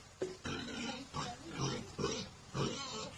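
Pigs in a pigpen beside an irrigation area on a rural farm grunt and oink in several close bursts, one after another, with low snorting between them.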